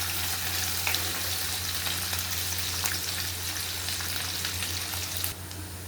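Onions fry in oil for a pumpkin pulusu curry, making a dense, constant loud sizzle with a low background hum; the hiss drops slightly near the end, and no one speaks.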